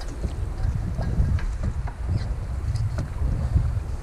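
Rowing boat with paddles working the water, a steady splashing and knocking of strokes over heavy wind rumble, close and fairly loud throughout.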